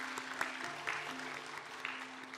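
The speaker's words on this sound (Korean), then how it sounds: "우리와 함께 하시는 하나님께 우리 감사의 박수 올려드리겠습니다." Church congregation applauding during a Sunday worship service, a steady wash of many hands clapping at moderate level, with a sustained low tone running underneath.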